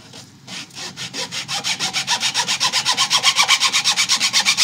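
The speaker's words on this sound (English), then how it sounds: "I have this nut slot file made by Hosco" A Hosco nut slot file rasps back and forth in a guitar nut slot, a quick steady rhythm of about four strokes per second that grows louder and more regular, close and alone.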